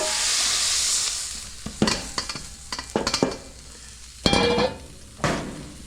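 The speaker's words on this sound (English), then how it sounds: "we've been stir frying for about 3 minutes" Smoked chicken fried rice stir-fried in a wok: a bright sizzling hiss broken by irregular bursts of spatula scraping and clattering against the metal, close and fairly loud, with no voices.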